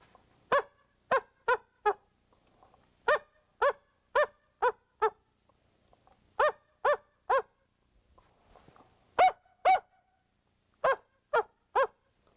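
A mouth call imitates non-aggressive coyote barks, sounding in short bursts of three or four sharp yips separated by pauses, close and clear in an otherwise quiet setting.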